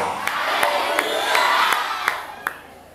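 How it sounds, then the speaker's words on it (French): A church congregation shouts and cries out together, a loud crowd roar that swells and fades, with sharp claps or beats cutting through at intervals. "Mais nous devons crier alléluia."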